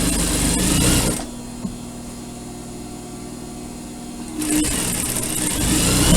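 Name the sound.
sewing machine stitching a cotton surgical scrub cap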